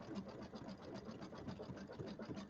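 An embroidery machine stitching a penguin mug rug, a steady fast mechanical whirring and clatter with a rapid stitch rhythm, faint and continuous.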